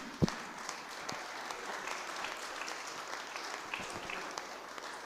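Applause from an audience at a conference on electric cars, a steady wash of many hands clapping continuously for several seconds, fairly faint and distant in a large hall.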